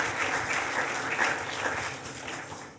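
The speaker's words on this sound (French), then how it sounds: "Est-ce que vous pouvez applaudir une fois de plus, s'il vous plaît?" A French-speaking church audience applauds steadily and densely, sustained clapping that holds at a fairly even level before easing off slightly toward the end.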